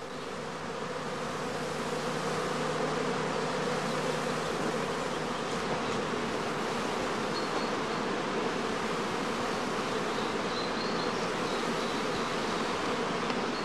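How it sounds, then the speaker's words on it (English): Honeybees swarm-flying around the entrances of heather skep hives in an apiary, a dense continuous buzzing hum from many insects close by, steady throughout with no talk. "The experienced beekeeper can tell from their behavior at the entrance whether the bees are about to swarm."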